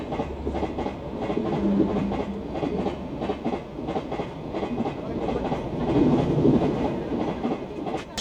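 A Bangladeshi long-distance train passes close by, producing a loud, continuous rumble with rhythmic clickety-clack wheel beats that rise and fall in intensity throughout.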